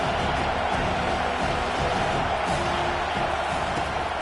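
A football stadium crowd at a Jaguars versus Tigers game roars as one steady, dense wall of noise, with no sharp peaks and no clear voices standing out.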